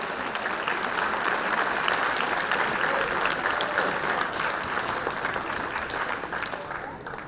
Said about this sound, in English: Come on, give them a great big round of applause.